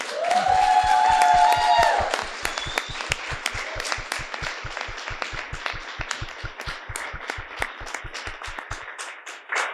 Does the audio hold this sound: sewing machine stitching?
no